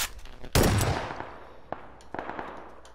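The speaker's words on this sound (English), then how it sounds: "I'm digging out the shotgun." A shotgun fires in the video game PUBG with one loud, close blast, followed by a few fainter, sharp reports and clicks.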